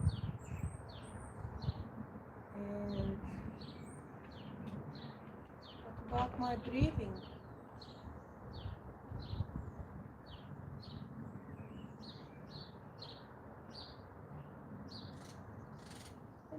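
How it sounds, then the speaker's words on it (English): Birds singing outdoors in quiet surroundings, a string of short, distant chirps and tweets repeating throughout under soft background noise, while a calm voice speaks briefly. "Take a moment and listen to the bird song."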